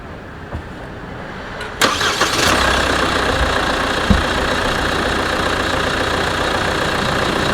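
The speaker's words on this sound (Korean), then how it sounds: "엔진 소리 한번 들려드리겠습니다" A used Kia All New Sorento's diesel engine cranks, catches, and settles into a loud, steady idle with a low rumbling drone; no speech.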